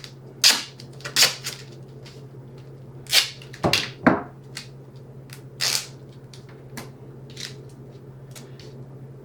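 Duct tape pulled and torn in short bursts, sharp ripping rasps repeated about a dozen times at uneven intervals, close and distinct over a steady low hum.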